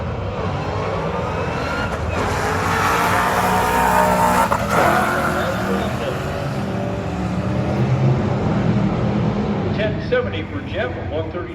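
Drag race cars, a 2014 Mustang and a 1972 Chevelle, roar at a strip with loud sustained engine noise and some tire squeal, while an announcer talks over the racket.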